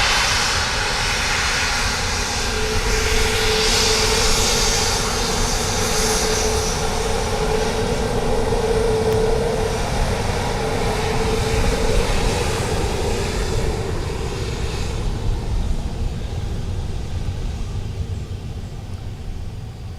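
An airplane takes off at Dublin Airport, its jet engines roaring loud and steady before slowly fading into the distance near the end, with no voices.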